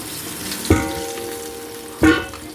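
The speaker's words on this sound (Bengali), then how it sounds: "এখানে পেঁয়াজটা ভাজা হোক" Onions frying in hot oil for a Bengali-style chicken curry, a constant close sizzle broken by two sharp clattering knocks of a utensil against the pan.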